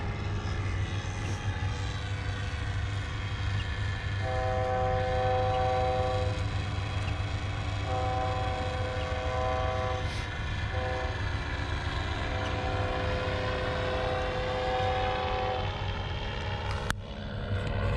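A train rumbles steadily past while its horn sounds in long sustained blasts, loud and close, with a constant low engine drone throughout.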